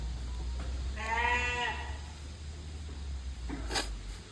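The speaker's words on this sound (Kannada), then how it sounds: "ಇಲ್ಲಿ ತುಂಬ ಕುರಿಗಳಿದೆ" A sheep bleats once on a sheep farm, a clear wavering cry over steady low background hum, followed by a brief faint rustle near the end.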